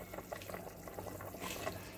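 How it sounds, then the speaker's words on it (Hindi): Soaked rice tipped into boiling biryani water in a large pot, giving a steady watery rush and splash with soft bubbling underneath, close and continuous with no talk. "अब हम इसमें जो चावल है भिगो कर रखे थे हमने"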